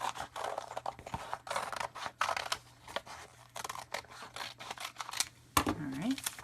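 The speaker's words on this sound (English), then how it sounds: "I'm going to grab my scissors here and just cut" Several quick crisp snips of scissors cutting through packaging, close by, with a person talking throughout.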